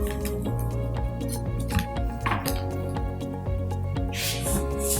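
A chef's knife cuts a cooked quesadilla into wedges on a board, giving a series of close crunchy slices and clicks over a steady kitchen background hum.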